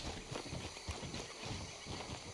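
Horse hooves clip-clop at a steady walking rhythm in Red Dead Redemption 2, near and fairly even over a faint ambient background, with no talking.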